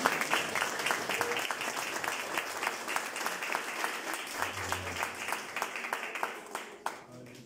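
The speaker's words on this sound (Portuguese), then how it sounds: "Quem crê assim, dá uma salva de palmas para Jesus." A church congregation applauds during an evening service, dense steady clapping at moderate distance that fades toward the end, with faint voices underneath.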